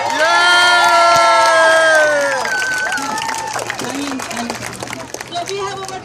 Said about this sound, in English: A big round of applause to our Chinese parents.